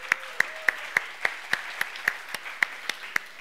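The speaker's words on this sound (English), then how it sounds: "Can we get a big round of applause for him, please?" Clapping at an ING tech event, #INGlovesIT, sounds as sharp, evenly spaced claps in a steady rhythm, about three or four per second, like a few hands beating in unison rather than a full crowd.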